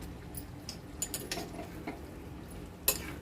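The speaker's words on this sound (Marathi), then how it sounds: "पुन्हा असं व्यवस्थित परतून घेऊया" A spoon stirs and scrapes a Maharashtrian vegetable curry with coconut and garam masala in a metal pan, giving a few sparse clinks and scrapes nearby, ending in one sharper knock.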